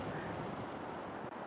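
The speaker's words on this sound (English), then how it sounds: "Oh, it's windy." Wind gusting outdoors as a steady, loud broadband rush buffeting the microphone, with no voices.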